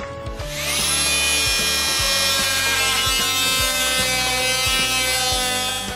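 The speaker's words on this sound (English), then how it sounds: "I'm gonna just make them square with that orange saw we got over there" An orange power saw cuts wood to square off rounded corners on a corner media unit built from barn materials, giving a loud, close, sustained high whine with a steady buzzing motor drone.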